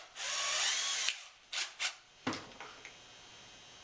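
A long drill bores into a bass guitar body: one sustained whirring run, then several short bursts and a final brief whine, close and fairly quiet, with no talk.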